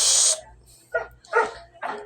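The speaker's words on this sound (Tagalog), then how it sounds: "Ang ingay ng aming aso." A household dog barks close by: three sharp, separate barks spaced about half a second apart, following a brief hissing burst at the start.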